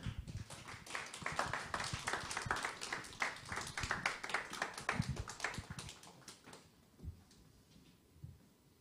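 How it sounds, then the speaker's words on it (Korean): A high-school youth group at a church winter retreat service greets missionary Ha Seong-han with loud, close clapping that builds into brisk applause, then thins to a few scattered claps and quiet room noise. "우리 하성한 선교사님 나올 때 여러분들 큰 박수로 함께 맞이해 주시기 바랍니다"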